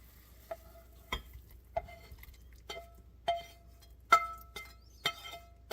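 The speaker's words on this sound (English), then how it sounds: "I'm trying to scrape out as much as I can in the pan, from the pan" Spatula scraping mushroom and Gouda omelette filling out of a pan, a series of sharp scrapes and light clinks about once a second, close and fairly quiet, with no talking.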